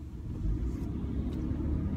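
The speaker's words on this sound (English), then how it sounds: "I got cars cutting out in front of me here and doing weird stuff right now" Steady low road rumble of cars moving in traffic around a driving car, continuous and fairly close, with no talking.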